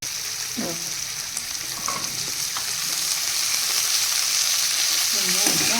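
Steady sizzling of chillies sautéing in a pan, a continuous hiss with occasional faint stirring clinks and a brief muffled voice.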